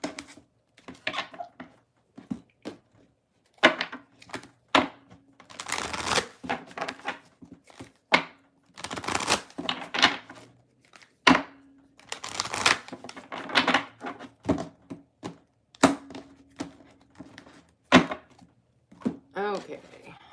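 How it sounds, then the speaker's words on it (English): Tarot cards being shuffled by hand, a series of sharp riffling bursts and slaps at irregular intervals, close and fairly loud, with no talking over them. "Excuse me while I shuffle."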